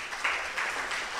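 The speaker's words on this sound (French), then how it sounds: "On les applaudit avec passion et émotion" An audience at a cycling round-table discussion in Guadeloupe applauds in a dense, steady wash of clapping that fills the short stretch without any speech.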